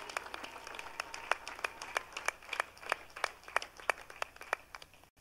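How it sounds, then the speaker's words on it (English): Congregation applause during a Pentecostal church sermon: fairly faint, steady claps in a loose, evenly spaced rhythm, with no talking over them. "Let us clap for the professor."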